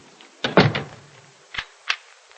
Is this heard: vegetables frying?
no